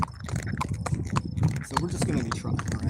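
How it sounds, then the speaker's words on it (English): Hooves of Jojo, a 16-and-a-half-hand thoroughbred mare, clip-clopping in a quick, steady rhythm close by, with a person talking over the hoofbeats. "So this is my horse Jojo. She's a thoroughbred."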